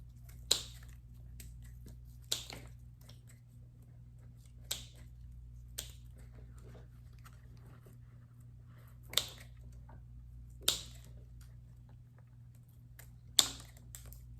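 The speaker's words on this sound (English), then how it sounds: "I'm just gonna use the scissors and I'm gonna get rid of all of" Scissors snip off dead orchid roots, giving sharp, isolated cuts spaced every couple of seconds over a low steady hum in a quiet room.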